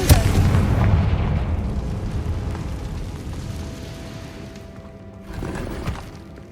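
Confringo blasting spell explosions in Hogwarts Legacy, set off inside underground ruins: a loud booming blast opens and rumbles away slowly, and a second heavy burst hits near the end.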